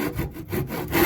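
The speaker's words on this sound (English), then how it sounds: "on keeping the saw nice and straight. And we're cutting just down to the line on both sides." A tenon saw cuts through wood held on a bench hook, with steady back-and-forth rasping strokes, close and fairly loud, with no voices.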